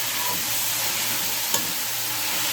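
Cabbage, capsicum and spring onion frying in a pan for vegetable fried rice, a steady close broadband sizzle with light stirring and one brief clink.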